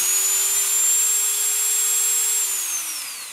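A corded Dremel rotary tool whines at a high, steady pitch, holding near full speed before the tone drops away as it slows. The motor is close and loud with no speech.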